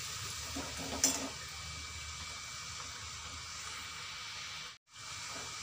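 Homemade kurkure sizzle in hot oil with a steady, close frying hiss that runs throughout, broken by a small pop near the start and a brief dropout near the end.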